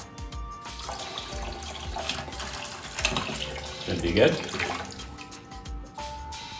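Water splashes and trickles continuously as some is drawn off from an overfilled planted aquarium, with a brief spoken remark over it.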